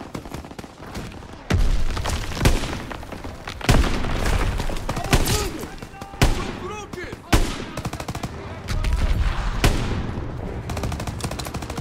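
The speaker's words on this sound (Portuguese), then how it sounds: "Tiro! Acho que estamos perto!" Gunfire in the Call of Duty WW2 video game: a string of loud, sharp shots and short bursts spaced across the stretch, with softer game ambience between them.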